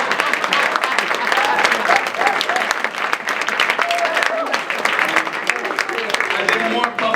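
Audience applause at an annual Martin Luther King celebration, crowd clapping steadily throughout with scattered voices and cheers mixed in.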